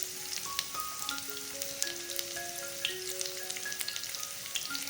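Curry leaves and shallots sizzle in hot coconut oil for a Kerala-style sardine and koorakka thoran, a soft, steady crackle with small pops, fairly quiet beneath a gentle melodic backing.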